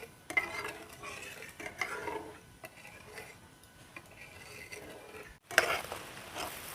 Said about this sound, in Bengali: এখন দেখুন চিনির শিরাটা খুব সুন্দরভাবে ফুটে উঠেছে